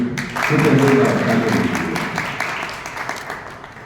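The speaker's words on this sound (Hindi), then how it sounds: "टीम प्रधानमंत्री कार्यालय के लिए आप सबकी एक बार तालियां चाहूंगा" Audience applause at a formal welcome ceremony, a dense steady patter of clapping that swells quickly and then slowly thins out, fairly loud and close.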